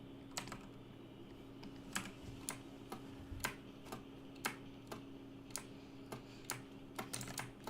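A computer keyboard is typed on during digital art work, quiet scattered key clicks with repeated single shift key presses at an even pace, no talking.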